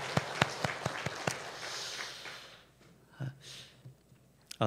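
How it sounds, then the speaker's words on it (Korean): Worshippers at a Sunday church service offer scattered applause: a run of sharp, separate claps that thins into a soft, fading patter, then a few stray taps. The sound is quiet and fairly distant. "우리 한번 박수로 한번 그분에 대하여 고마운 마음을 전하면 좋겠습니다."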